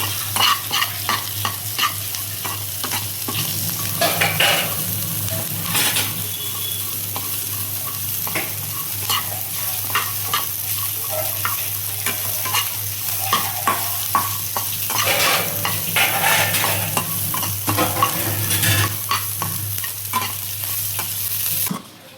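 Colocasia stirred in a hot pan with green chili, cumin and shrimp gives a steady close sizzle of frying, with scraping stir strokes throughout and no talking.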